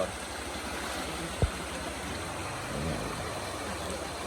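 The Siron Blang river near Jantho, Aceh, flows with a steady, broadband rushing murmur at moderate distance near a campsite, with a single faint knock partway through and no talk.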